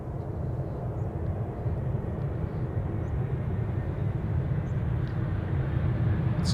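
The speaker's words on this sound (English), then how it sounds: "It's a 747 that we don't see very often here at Schiphol Airport" A Boeing 747 arrives at Amsterdam Schiphol Airport on a sunny winter day, landing on runway 18C: a steady, loud jet roar with deep low rumble that holds throughout without fading.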